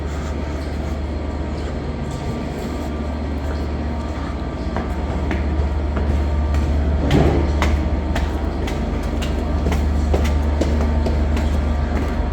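A train pulling into a British station rumbles steadily with low rolling noise and occasional metallic clicks and squeals, continuous and fairly close throughout.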